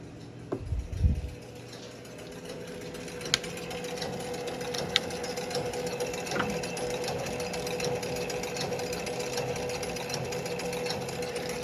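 A score wheel turns inside a Gottlieb 1957 Royal Flush pinball machine, giving a steady low mechanical whir with faint ticks after a brief thump at the start.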